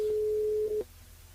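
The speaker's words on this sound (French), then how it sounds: "on va appeler Cédric, dernier appel également" Telephone line tone heard while a radio show host places a call to a listener, one steady held tone lasting under a second, then cutting off to quiet line hiss.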